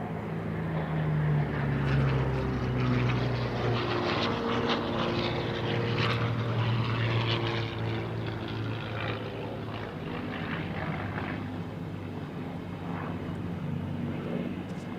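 A P-40 fighter with an Allison propeller engine flies past at an airshow, a loud steady droning roar with shifting engine tones that stays strong throughout before easing slightly.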